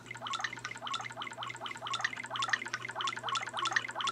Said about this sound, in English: you guys can hear that, that's like water.